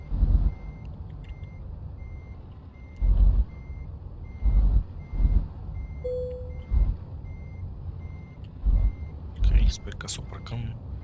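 A truck reverses into a parking spot in Euro Truck Simulator 2, with a steady run of reversing beeps over a low engine rumble and hiss bursts near the end. A person speaks quietly.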